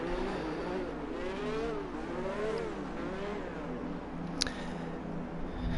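Race cars in a racing video game weave at the start of an Australian race and burn out their tyres, a continuous engine drone with rising and falling revs and a brief sharp squeal near the end.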